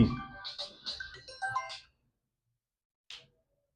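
A phone ringtone plays a bright, tuneful melody for nearly two seconds, fairly loud and close, then cuts off into silence before one short chirp a moment later.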